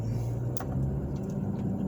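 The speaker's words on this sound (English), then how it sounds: "the traffic that you guys see today" Road traffic in Carmel, Indiana, heard as a continuous low rumble of passing cars and engines, fairly steady throughout.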